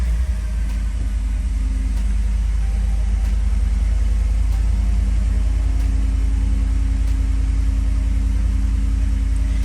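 A 2021 Ford F-150 Lariat pickup with push-button start idles steadily, a loud, close, even low rumble with a faint regular ticking above it and no talk.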